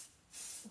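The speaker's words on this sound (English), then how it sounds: "So I'm gonna do a little pixie spray." A spray can hisses out a single short burst of paint onto a fall bushel basket craft, a steady close hiss lasting a fraction of a second.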